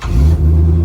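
A 1983 Cadillac Eldorado that sat for ten years, newly fitted with a fuel pump and tank, idling loud and close with a deep steady engine rumble holding at one pitch, no talk.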